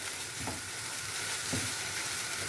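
Içli köfte filling with black pepper frying and being stirred in a pan, a steady close sizzle with a couple of soft scraping stirs, no talk.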